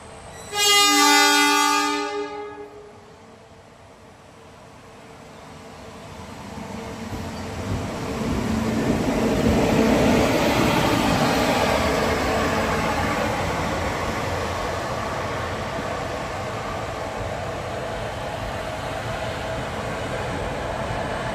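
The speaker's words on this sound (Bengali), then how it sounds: "এই যে ট্রেনটা দেখলে, এটা হচ্ছে ডেমো ট্রেন, ডিএমও না কি বলে এই ট্রেনটার নাম।" A DEMU passenger train sounds a loud horn blast, then rumbles past close by, with the rolling clatter building and holding steady before slowly easing off.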